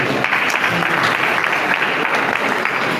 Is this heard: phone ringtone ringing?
no